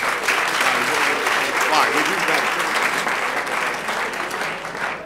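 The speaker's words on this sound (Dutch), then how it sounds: "Geef ze nog een groot applaus" Sustained applause from a live audience at a Dutch awards evening, steady and dense for several seconds, fading slightly toward the end, with faint voices mixed in under the clapping.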